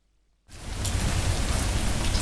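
Heavy rain starts abruptly after a moment of silence and then keeps up as a loud, steady, dense downpour hiss, close and unbroken to the end.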